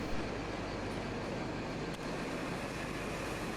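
A pair of Class 313 electric multiple units runs on a Hertford North service in London, a continuous rumbling rail noise of wheels and motors heard close by, with a brief dip partway through and no talking.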